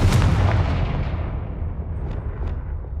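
A Confringo blasting spell goes off in Hogwarts Legacy, a loud deep boom that rolls away into a long rumbling decay, with two faint crackling pops near the end.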